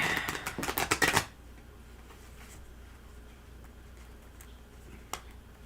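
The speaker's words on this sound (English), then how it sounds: "This table is problematic for my way of shuffling." Tarot cards are riffled on a table in a quick burst of crisp, rapid clicks lasting about a second, then near-quiet room tone with one faint tap near the end.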